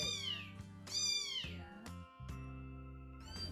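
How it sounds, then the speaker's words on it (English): Several high, thin kitten meows come in quick succession, close by and fairly loud, with a short gap before a final cry. "We care for little tiny kittens, anywhere from days old to weeks old."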